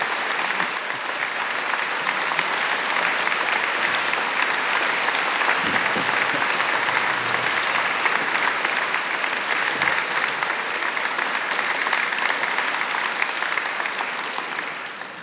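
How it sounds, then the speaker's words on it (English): Sustained, loud applause from an audience at a university degree ceremony in Poole, steady dense clapping that fills the whole stretch and fades slightly at the very end. "the fact you've just spontaneously burst out into applause there"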